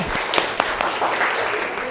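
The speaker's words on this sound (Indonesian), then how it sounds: "Oke, berikan tepuk tangannya ya." Applause from a classroom of teachers in training during a civics lesson, a steady two-second wash of many hands clapping at moderate loudness with a few sharper claps standing out and some talk underneath.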